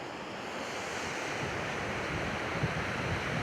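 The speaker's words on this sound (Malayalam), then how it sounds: "വെള്ളം ഇങ്ങനെ ഓവർഫ്ലോ ആയിട്ട് വരുന്നത് കണ്ടോ." River water pours over a check dam in a Tamil Nadu village, a steady, even rushing wash heard from a moderate distance, alone without voices.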